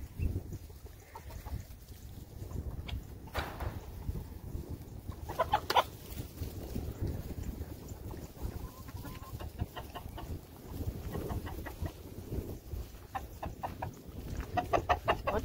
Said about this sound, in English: this rooster just likes to hang out in the chicken coop all the time.